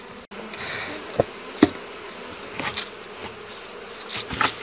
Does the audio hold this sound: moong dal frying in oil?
no